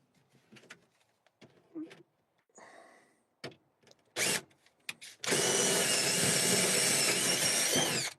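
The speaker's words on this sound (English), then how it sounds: "so I'll just drill those two places out there" A power drill bores holes at a cabin: scattered knocks and short whirring bursts give way to a loud, steady, continuous drilling whine that runs for about three seconds, close and prominent.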